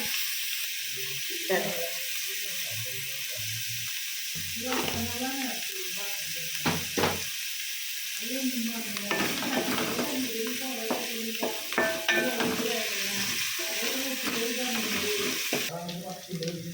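Onions sprinkled with sugar fry and are stirred in a pan, a steady sizzle with occasional scraping running beneath a person talking throughout.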